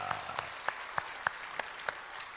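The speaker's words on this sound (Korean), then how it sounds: "박수로 환영합니다" Church congregation applause welcoming newcomers at a Sunday worship service, a soft steady wash of clapping with a few sharper claps standing out at regular intervals, fairly faint and distant.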